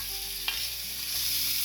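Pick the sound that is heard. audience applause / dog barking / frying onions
frying onions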